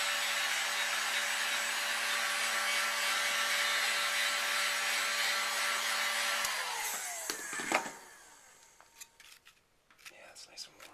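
A heat gun warms a rubber grip on a Glock 21 pistol, blowing with a steady, close whirring hiss for about seven seconds. It then cuts off, leaving faint handling knocks and rustles.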